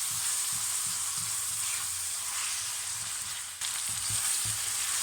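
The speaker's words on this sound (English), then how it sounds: "I'm just going to fry this off just for a few minutes" Garam masala spices fry in a pan for a saffron chicken korma, a steady bright sizzle with soft stirring thumps underneath, close and continuous, no talk.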